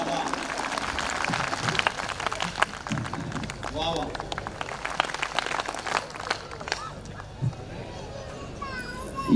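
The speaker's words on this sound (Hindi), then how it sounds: "तालियां पूरे सदन की एक बार बज जाएं ताकि उनका मूड बन जाए।" Applause from a hall audience at a Hindi comedy poetry gathering (kavi sammelan), dense clapping and crowd noise filling most of the stretch with some voices mixed in, thinning out toward the end.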